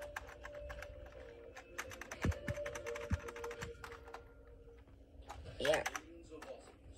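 Fingers type on a new computer keyboard in a home gaming setup, a close rapid patter of key clicks with a few heavier thumps, while a person talks over it.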